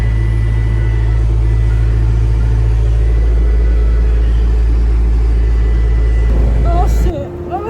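A John Deere 331G skid steer with a 78-inch bucket runs with a loud, steady low engine rumble for several seconds, then it cuts out abruptly near the end, with voices heard over it.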